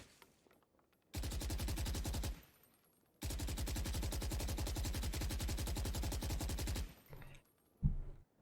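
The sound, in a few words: automatic gun spray fire in Valorant video game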